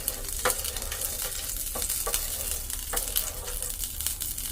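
Butter and oil sizzling in a pan for pepper chicken, a steady close hiss of frying with a few brief clicks of stirring, heard alone without talk.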